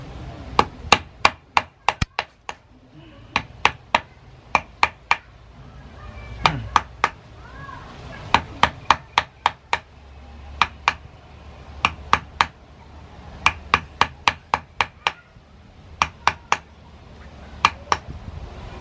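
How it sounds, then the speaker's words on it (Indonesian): Chisel struck by a mallet to carve a shortened kingkit bonsai stump, sharp wooden knocks coming in quick bursts of three to six, close and loud with brief pauses between the bursts. "Ini potong pendek, nanti ini juga kita pahat."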